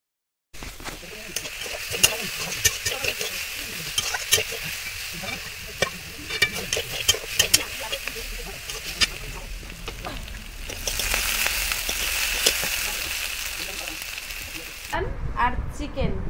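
Food frying and being stirred in a pan, a continuous sizzle with repeated scraping strokes that swells louder partway through, with a voice talking faintly at times under it.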